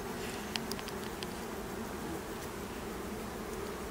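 Bees drone in a steady, continuous hum that stays fairly loud the whole time, with no voices and only a few faint, brief ticks high above the buzz.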